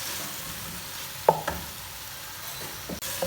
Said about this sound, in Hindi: और इसको अब हम इसकी भुनाई करेंगे जब तक कीमे का कलर चेंज ना हो जाए।